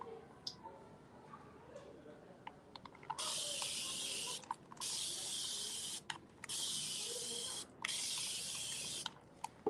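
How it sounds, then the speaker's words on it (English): A hand spray bottle mists a paintbrush in four quick bursts, each a sharp hissing spray lasting about a second, with small clicks and faint handling noises between them and no talk. "Again, I'm going to spray my brush."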